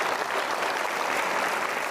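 A studio audience on an Indonesian television talk show gives sustained, dense applause, steady and loud throughout with no break.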